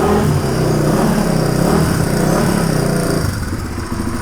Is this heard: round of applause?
no